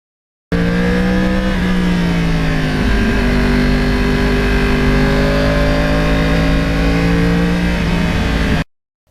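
A 2009 Yamaha R1 Crossplane motorcycle engine revs and accelerates close by, loud and steady throughout, its pitch climbing then dipping and rising again, with no talk over it.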